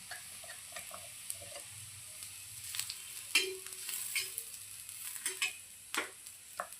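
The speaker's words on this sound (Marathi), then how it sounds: "छान असा आपल्याला काळसर असा कांदा हा परतून द्यायचा आहे" Onion browning in a pan for a fish curry, with grated coconut going in. There is a soft, quiet sizzle under intermittent scrapes and taps of a spatula, and the stirring gets busier toward the end.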